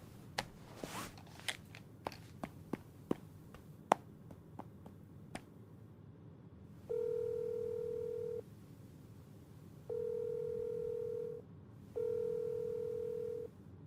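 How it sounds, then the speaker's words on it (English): A phone call is placed: a quick run of sharp keypad taps, then three long steady ringback tones separated by short pauses, quiet and close. "then grabs her phone and calls Za."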